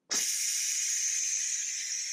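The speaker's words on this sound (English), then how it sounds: "just slide it to the right, and it'll start firing up steam" A pressure cooker vents steam in a sudden, loud, steady hiss that starts abruptly and holds constant for about two seconds, close by and with no talking.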